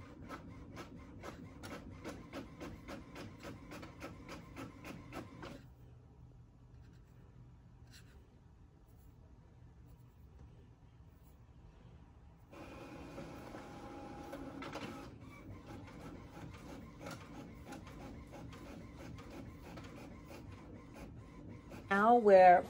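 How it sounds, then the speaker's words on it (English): An inkjet-style printer printing exam papers double-sided, with rhythmic mechanical whirring and scraping paper-feed passes, a quiet pause midway, then more printing ending in a whirring flourish, faint and close, with little else heard. "Now we're printing out everything that has to do with exam one"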